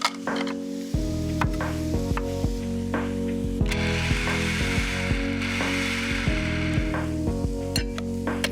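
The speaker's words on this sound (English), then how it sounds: "within moments, we've got some finely chopped mushrooms" Mushrooms are finely chopped in a manual pull-cord chopper, making a run of close, loud ratcheting whirs with a mechanical rattle, repeated pull after pull with brief gaps between them.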